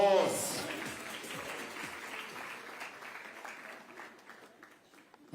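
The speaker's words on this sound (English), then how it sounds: "A round of applause." Audience applause at a formal women's gala dinner, a dense crowd clapping that starts loud and gradually thins and fades over several seconds, with a brief louder burst at the very end.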